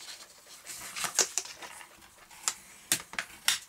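A paper card is being creased along its folds, producing soft scattered crackles and several crisp, quiet snaps spaced irregularly, close by in a calm room.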